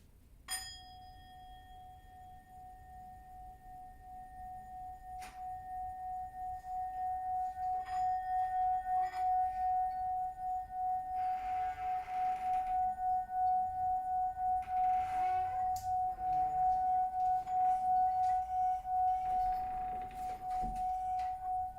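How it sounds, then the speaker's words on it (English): A singing bowl rings with a steady, sustained tone that lingers softly throughout, faint and calm with no voices. "Enjoy the sound of the bowl."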